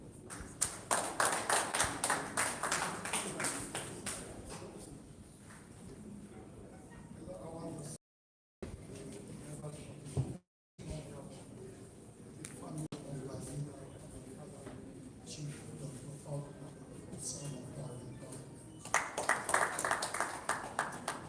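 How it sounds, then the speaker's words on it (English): An audience at a 35th anniversary celebration claps and applauds in bursts, strongest at the start and again near the end, with a speaker talking over a microphone between the rounds of clapping. "A hand of applause for them."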